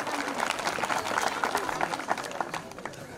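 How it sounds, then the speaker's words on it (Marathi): Villagers at an outdoor gathering in Manjaram clap in welcome of a guest, a dense, continuous burst of applause from a crowd, loud and close, with some voices mixed in. "जमलेल्या माझ्या गावकऱ्यांना विनंती करतो टाळ्या वाजवून साहेबांचं स्वागत करावं"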